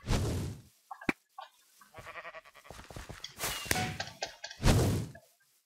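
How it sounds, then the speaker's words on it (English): Minecraft sheep bleat in a video game, several short separate bleats with thuds and game effects between them, fairly close and moderate in level. "Oh, sheep."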